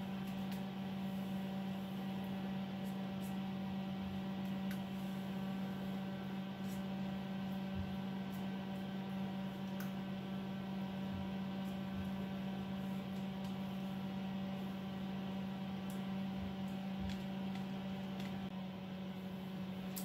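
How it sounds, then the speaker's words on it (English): An oven hums steadily while preheating to 180 degrees, a constant low electrical drone with faint background noise, unchanging for the whole stretch and with no voices. "I'm preheating it, the oven, 180 for 20 minutes"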